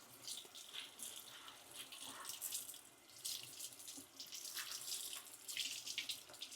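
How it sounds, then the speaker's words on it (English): Warm water runs steadily from a tap over a wooden cutting board being scrubbed with a dishcloth, a continuous close splashing hiss that shifts as the board moves under the stream. "with warm water, I rinse that off, use a dishcloth, and really get into all of the crevices"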